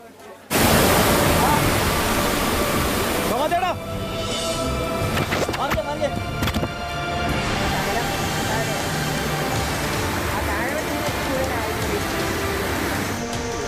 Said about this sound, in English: After incessant rainfall and floods, a trail of destruction.